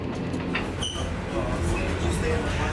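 Overland passenger train rolling along the rails between Melbourne and Adelaide, a steady close rumble with faint wheel clatter throughout and a brief high squeal near the start.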